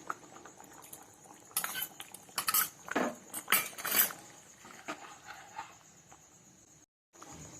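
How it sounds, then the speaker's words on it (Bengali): Ground nut paste goes into a bottle gourd and egg curry in a pan, with a cluster of sharp metal spoon scrapes and clinks against the pan, close and fairly quiet, followed by a faint steady hiss. "এবার বাদাম বাটাটা দিয়ে দিচ্ছি।"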